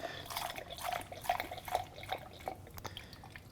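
Water is poured into a foam cannon bottle for car washing soap, a soft, uneven trickle with light splashing and drip-like plinks running for a few seconds at modest volume.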